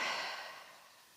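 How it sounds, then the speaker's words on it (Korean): One soft, breathy exhale during a bridge exercise, close and fading out over about a second. "마시고 내쉬고 네, 마시고 내쉬고"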